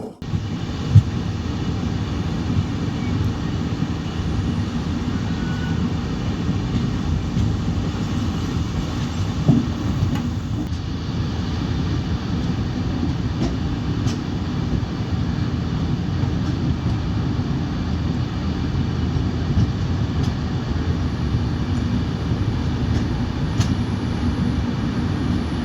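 Chennai Central to Bodi Express, train 20601, rolling steadily after pulling out of a station, a continuous loud low rumble and rush of running noise sustained throughout with no talk.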